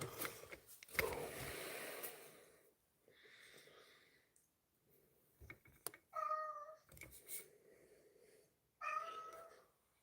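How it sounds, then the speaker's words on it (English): A cat meows several times in short, separated calls with snuffly breathing between them, close by and fairly quiet, with no talking. "Hush your meowing."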